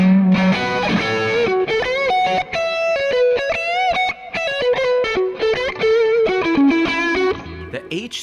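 An electric guitar played through a BluesMaker amp profile with an H speaker, a distorted, effects-laden riff of quick notes and bends filling the whole stretch at close range.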